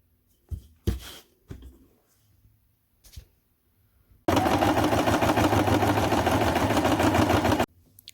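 A sewing machine stitches darts on a shirt in one steady burst lasting a few seconds, a loud close motor whir with rapid needle clatter, preceded by a few scattered handling thumps and clicks.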